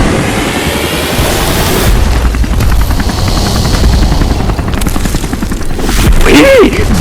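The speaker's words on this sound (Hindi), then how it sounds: "अबे बम फटना शुरू हो गए।" Helicopters dropping bombs over a school during Diwali: loud, dense rumbling blasts and crackling bursts fill the whole stretch, with a brief whistling sweep near the end.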